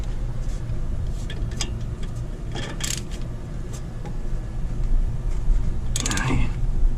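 A ratchet tightens a brake caliper bolt on a 2013 Equinox during a brake pad job, giving short metallic clicking bursts close by over a steady background hum.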